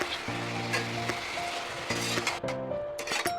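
Mutton fries with onion, garlic and ginger paste and ground spices in a pan for kosha, a soft steady sizzle beneath occasional spatula stirs and light clinks, moderately quiet and close.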